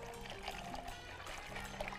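Plain tap water poured into a cooking pan on the stove during a cooking show. A faint, continuous trickle with small splashes runs for about two seconds and stays quiet and close.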